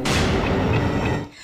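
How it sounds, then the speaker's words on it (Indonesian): A bomb blows up a building in a film scene, producing one loud, deep, rumbling blast that fills the moment and then quickly fades. "bom itu meledakkan bangunan beserta Sanjay di dalamnya"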